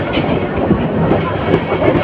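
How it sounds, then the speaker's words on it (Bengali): Chottola Express, a Dhaka to Chittagong train, rolls into Airport railway station at platform 1, giving a steady dense rumble of wheels and carriages close by, with faint voices mixed in. "চট্টলা এক্সপ্রেস ট্রেনটি বিমানবন্দর রেল স্টেশনে প্রবেশ করেছে 1 নম্বর প্ল্যাটফর্মে"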